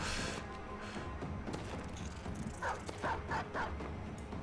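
Dogs in a video game bark and yip in a quick cluster of several sharp calls, mid-distance over busy game noise and effects.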